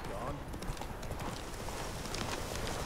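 Rapid rhythmic hoofbeats of a galloping horse in The Witcher 3: Wild Hunt, steady and moderately loud, with a faint voice in the background.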